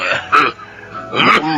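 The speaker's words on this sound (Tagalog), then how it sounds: "masama na yung ubo mo" A person coughs twice in short, rough, throaty bursts, close and fairly loud, in a Filipino radio drama scene, with a quiet raspy pause between the coughs and no words spoken.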